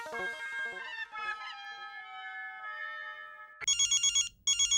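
A telephone rings with a bright electronic trill in repeated pulses, following a fading melodic tone, close and clear with no talk.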